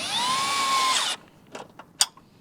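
A power driver with a deep socket whines loudly as it tightens bolts on a midsize truck bed drawer system, its pitch sliding as the fastener seats, then stopping, followed by a few short clanks.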